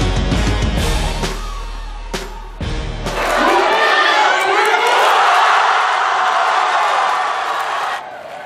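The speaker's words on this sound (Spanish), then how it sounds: "este es el momento en el que Telde, el pueblo natal de Misa Rodríguez, vibró con el gol de la selección" Fans packed into a theater in Telde roar as the Spanish national team scores. Brief loud outbursts give way to a sustained, swelling wall of cheering and shouting, with some voices audible early on.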